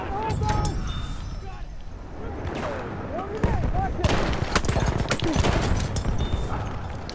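Shotgun blasts in a first-person shooter video game, sharp broadband bangs at irregular intervals over busy game noise, with a voice talking throughout.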